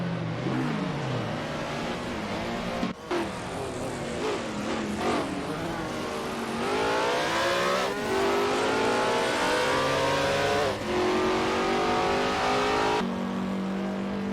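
1950s Formula 1 race cars in a video game lap the Bahrain circuit, their engines whining and revving through repeated rising gear sweeps and passes, loud and continuous with one brief cut.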